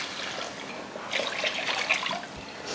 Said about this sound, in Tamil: அதில் தான் தண்ணி சேர்க்க போகிறோம்.